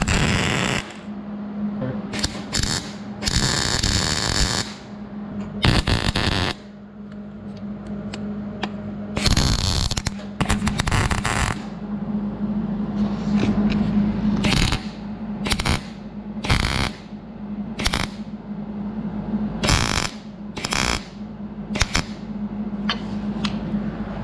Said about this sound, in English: Let's get this sucker welded up.